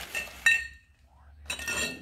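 A glass cup in a collection of old drinking glasses gives a sharp single clink when set down, followed by a brief rustle of handling nearby.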